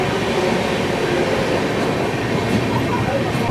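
Inside a 3-tier economy coach of the Radhikapur Express, a steady loud rumble of the running train fills the space, with faint rhythmic wheel clatter and a muffled voice underneath.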